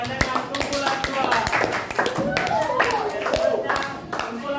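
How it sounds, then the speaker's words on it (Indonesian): Applause from a classroom group after a presentation, a dense patter of clapping hands lasting several seconds with voices chattering underneath. "bagi tepuk tangan yang kumpulan dua"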